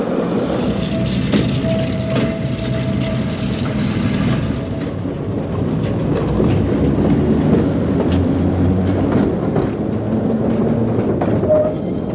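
An old London Underground train runs on rails near old sleet locomotives, giving a loud, continuous rumbling roar with faint rhythmic clicks that lasts about twelve seconds and is heard alone, with no voices.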